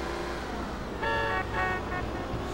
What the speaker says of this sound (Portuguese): Vai buzinar.